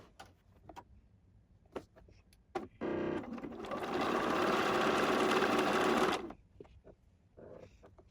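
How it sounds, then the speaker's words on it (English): A sewing machine stitching quilt fabric runs in a steady, fast mechanical whir for about three seconds, close and loud, between soft clicks and handling noises. "I am going to sew just inside of this line"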